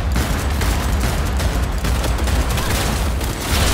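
Dense, sustained gunfire and explosions in the video game Cyberpunk 2077, a loud, continuous barrage of shots and blasts with no break.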